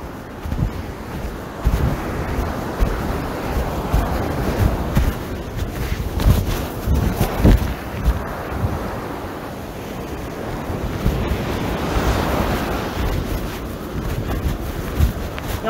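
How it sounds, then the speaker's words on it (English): Breezy wind buffets the microphone on a Florida beach while surf rolls and washes in the background, a loud, continuous roar with swelling gusts and no talking. "It's pretty breezy today."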